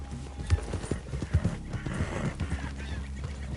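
Horses in Red Dead Redemption 2 clop on the ground with a neigh or whinny and a few heavy hoof thuds, close by and fairly quiet, with faint voices.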